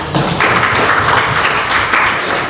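A classroom of students clapping together in a brief, dense burst of applause, close and fairly loud throughout.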